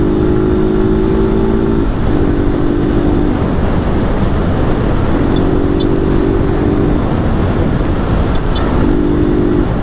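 A Honda 160 motorcycle engine with its stock exhaust runs steadily at moderate volume with a mild, smooth exhaust note and a constant rumbling drone, with no talking.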